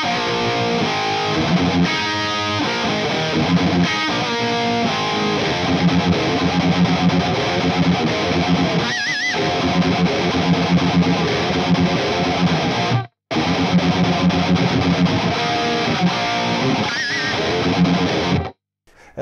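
Electric guitar played through a Victory VX Kraken MK2 amp with wild overdrive, a shimmering chorus effect and slight bass boost, a continuous thick distorted tone with brief pauses.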